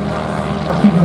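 A WWI replica Nieuport 12 biplane flies at an air show in Pardubice, giving a brief, steady droning engine hum.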